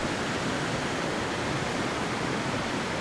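Tiered waterfall cascading down several drops in an outdoor landscape, a steady broadband rushing roar of falling water, loud and unbroken, with no voices.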